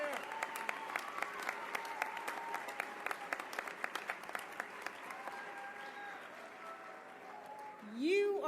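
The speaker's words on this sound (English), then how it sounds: "Please give yourself a round of applause for everything you've done." Scattered applause from a large gathering of community organizers, fairly quiet and thinning, with sustained tonal hum or feedback underneath and a brief rising tone near the end.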